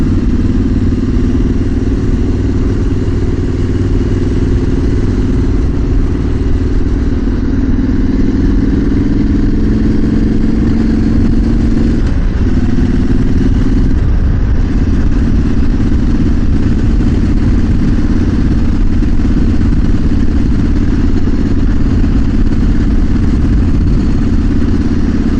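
A motorcycle fitted with a custom twin-pipe exhaust runs steadily close by, a loud, continuous engine note with a slight rise in pitch partway through, no voices.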